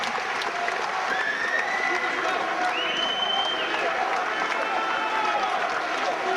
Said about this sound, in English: This is applause from the crowd now as Steve Corino gets helped up.